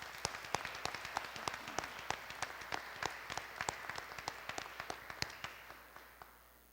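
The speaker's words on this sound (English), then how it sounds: "let's give them a round of applause to thank them for their efforts" Sparse audience applause at a university teacher appreciation event, distinct individual claps rising and then thinning out over several seconds, fairly close with a roomy background.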